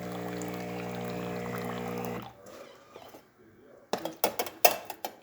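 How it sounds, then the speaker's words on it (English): Hot water from the spout of a Jura Impressa S9 coffee machine runs in a steady hum for about two seconds, then stops, followed by brief clinks of cups and dishes. "nice steady stream coming out of the spout"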